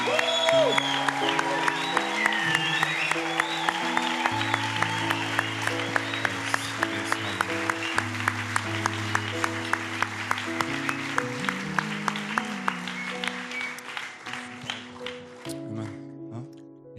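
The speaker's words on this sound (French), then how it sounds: "Est-ce que tu peux acclamer le roi des rois maintenant, s'il te plaît?" An audience applauds and cheers at length over sustained music with rhythmic beats, the clapping strong and continuous before thinning out toward the end.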